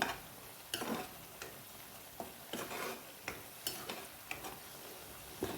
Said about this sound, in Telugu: చక్కగా వేయించుకుందాం ఫ్రెండ్స్ ఈ ఉల్లిపాయ వేగిపోయింది